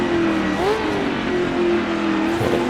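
A 1966 Sebring 12 Hours race car brakes hard into a corner, its loud close engine note dropping and shifting in pitch under a constant roar, with a brief squeal as a wheel locks.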